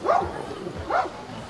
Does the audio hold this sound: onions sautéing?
no